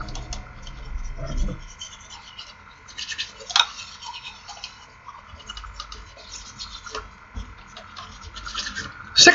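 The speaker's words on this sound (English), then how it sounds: "you think of the upper teeth, gums, and palate as a unit, and you brush 60 strokes worth of brushing" Toothbrush scrubbing across the upper teeth, gums and palate in steady back-and-forth strokes, a close, soft rasping scrub that runs continuously with a few sharper bristle scrapes and no talking.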